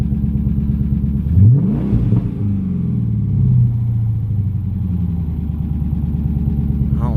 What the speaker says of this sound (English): I don't like that ticking.